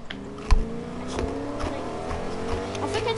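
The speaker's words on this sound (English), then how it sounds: "I can't get you because you're driving in a car." Video game car engine droning steadily with harmonic whine and a sharp thump near the start, other game effects layered over it.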